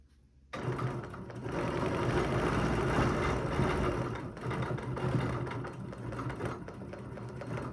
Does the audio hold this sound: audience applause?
no